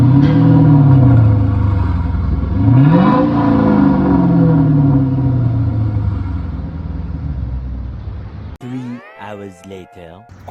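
A straight-piped Chrysler 300C with the 5.7 HEMI V8 revs loud and close, pitch climbing, dropping and rising again through several throttle blips, then fading as a voice speaks briefly at the end.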